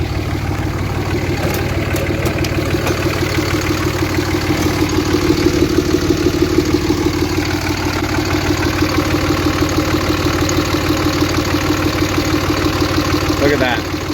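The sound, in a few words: Cummins diesel engine idling with cylinder 4 shut off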